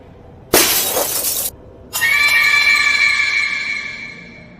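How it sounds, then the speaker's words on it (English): A mirror struck with a heavy metal chair shatters in a sharp, loud burst. After a brief silence, a second crash follows as glass shards ring and tinkle while fading. "The mirror exploded."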